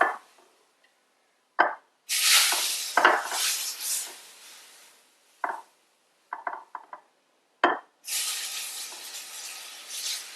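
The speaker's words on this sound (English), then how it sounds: "the water is so hot it'll sizzle. So you need to put in a little bit at a time and then stir it in" Boiling water poured in small amounts into hot roasted semolina for suji halva bursts into loud hissing sizzles, with clattering stirring in between and several separate pours, close and with no talking.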